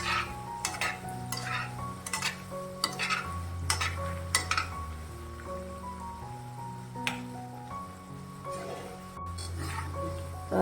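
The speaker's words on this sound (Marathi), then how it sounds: "असं चमच्याने असं व्यवस्थित हलवून घ्यायचं आहे" Cabbage manchurian balls fry in hot oil while a spoon stirs and knocks against the pan in irregular clinks and scrapes, over a steady sizzle and a low background tone.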